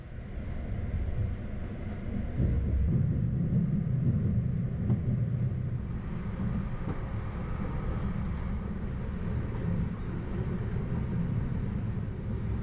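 Pustertalbahn train running along a single-track line, a steady low rumble and rolling drone of the carriage, constant and fairly loud, with a slight swell in the middle and no talking.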